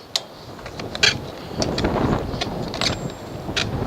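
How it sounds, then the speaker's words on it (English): Strong outdoor wind buffets the microphone with a steady broadband rush, broken by a few sharp gust thumps and clatters, while someone sets up trimmer racks. "The wind's going to blow me away."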